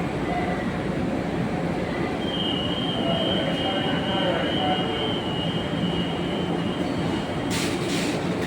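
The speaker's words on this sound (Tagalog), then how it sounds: "Ayun, parating na yung tren." A train pulling into a station, a steady loud rumble of wheels on rails with a thin sustained squeal and a brief hiss near the end, no voices.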